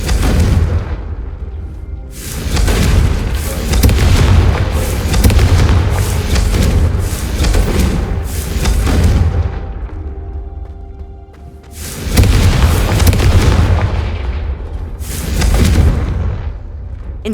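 Confringo fire spells burst in the video game Hogwarts Legacy, rolling booms and crackling blasts in loud, dense waves with a short lull between clusters. The sound is heavy in the low end and has no talk over it.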